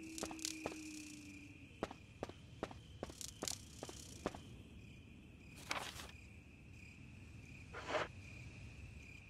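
Night crickets chirp in the Resident Evil game garden, a steady faint high drone running throughout, punctuated by scattered footstep-like clicks and taps.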